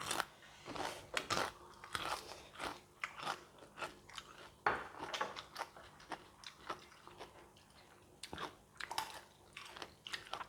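Crispy fried chicken skin is bitten and chewed up close, with repeated loud crunches in an uneven rhythm and little else around them.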